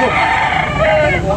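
A rooster crows amid the busy chatter of a live chicken market in Carbon, Cebu, one drawn-out call rising over steady crowd talk and bargaining voices close by.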